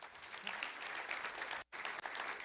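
Audience applause at a nursing graduates' national signing day ceremony, dense steady clapping that fills the room, with one brief drop to near silence partway through before resuming.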